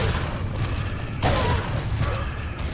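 Shotgun blasts in Resident Evil 4 boom out in quick succession, layered over continuous game action and clatter, fairly loud and close.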